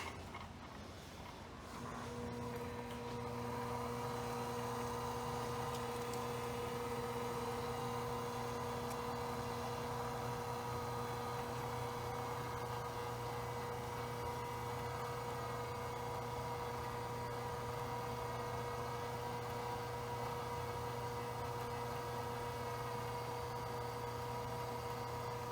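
Electric buffing motor speed-controlled by a foot pedal, spinning up in the first seconds and then running at a steady, even hum, close and quiet with no talk.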